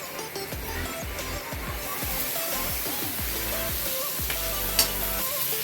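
Chicken sizzling steadily in a hot pan with tomato added, a dense continuous frying hiss with scraping stir strokes throughout, close and unbroken, with no voices.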